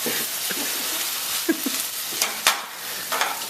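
Potatoes fry in a pan with a steady, close hiss of sizzling, broken by a few soft scrapes and stirs of a utensil.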